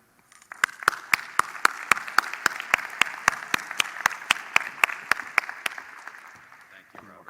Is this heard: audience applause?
yes